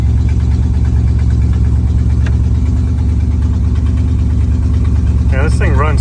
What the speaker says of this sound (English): Yeah, this thing runs so good.